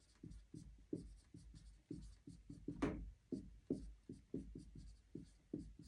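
A hand writes out a chemistry molarity equation for an acid-base titration problem, giving soft, rhythmic pen scratches in short repeated strokes. Close and quiet, with no voice.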